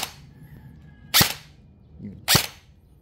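An airsoft gun fires 0.20 BBs through a chronograph, giving two sharp close cracks about a second apart.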